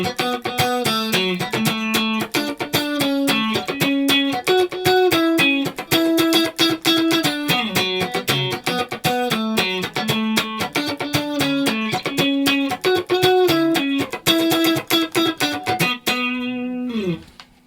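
An electric guitar plays a funky strumming pattern with single picked notes woven into the muted chord rhythm. The playing is steady, bright and up close, and it rings out at the end.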